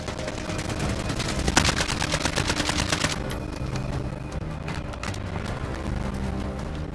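Rapid automatic gunfire rattles loud and close in a video game firefight, with dense bursts over the first three seconds, then scattered single shots and more distant fire continuing beneath.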